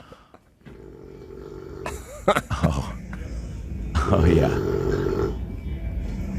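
A man snores heavily in a green room, deep rasping rattles in several long breaths, recorded a little distant and heard under people talking and laughing nearby.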